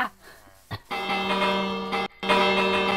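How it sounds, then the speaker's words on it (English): A Minecraft bell rings twice in clear metallic strikes, each with a bright sustained ring that fades, after some short soft sounds at the start. "Jaden, that's my bell."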